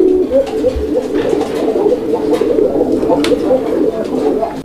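Golla pigeons coo steadily at a pigeon farm, a dense, continuous low burbling from many birds close by with no talk over it.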